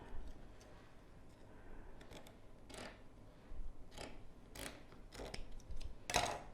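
Scissors snipping string for a fall door garland, several short crisp cuts spaced irregularly, with a sharper snip near the end, faint and close over a quiet background.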